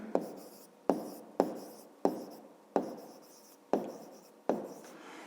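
A pen scratches out an answer to a fifth-grade maths exercise on paper, about seven quick, close strokes in a regular rhythm, each starting sharply and trailing off.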